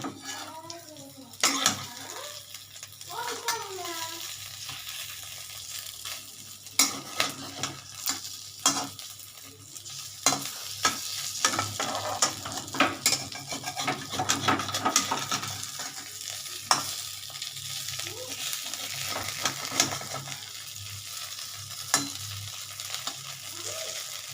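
Fritters made from fish oil frying in a pan give a steady sizzle, broken by sharp clinks and scrapes of a utensil against the pan, close by, with a voice speaking briefly near the start.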